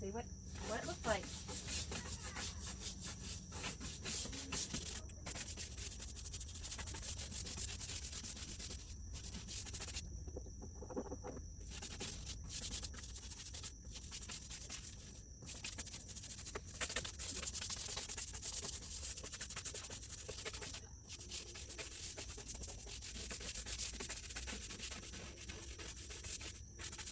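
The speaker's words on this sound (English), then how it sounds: "We're ready to scrub this down this last time, and we'll see what it looks like." Steady scrubbing and rubbing of stripped paint residue on a camel back sea chest runs through the clip as a continuous rasping, close and moderately loud, with brief pauses and no talking.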